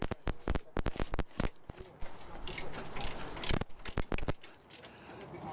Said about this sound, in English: Give me a ratchet.